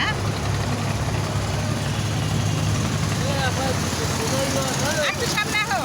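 A motorboat engine drones loud and steady through a ride on the water, with people talking over the rumble and some brief chirpy sounds near the end.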